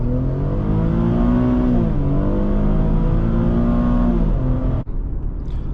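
A 2011 Infiniti FX35 pulls away from a standing start, its engine note climbing steadily in loud, continuous revs with rising harmonics before cutting off abruptly near the end.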